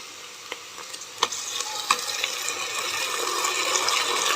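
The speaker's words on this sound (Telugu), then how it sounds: "బాగా వేయించుకోవాలి దీన్ని" Steady sizzling of tomato puree frying in a pan for makhana gravy, with a few sharp clicks and stirring knocks, growing slightly louder toward the end.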